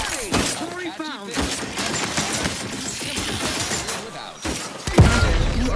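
In The Outer Worlds 2, a grenade goes off amid a firefight, with a sharp blast and crackle arriving near the end, after stretches of shouting voices, gunfire and clattering combat sounds.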